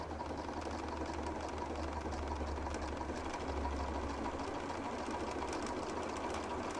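A sewing machine working its way along a long fabric ruffle for a ruffled-edge blanket, running with a continuous low motor hum and rapid needle clatter, fairly quiet and without talk.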